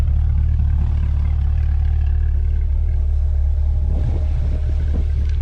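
Deep, continuous exhaust rumble from a Chevrolet C8 Corvette while driving, loud and close, holding a steady low drone with some rougher pulsing toward the end.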